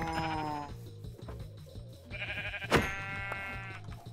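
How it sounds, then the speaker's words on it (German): Sheep in the Minecraft video game bleat several times in quick succession, clear and close, over an electronic game soundtrack with no talking. "Schafe."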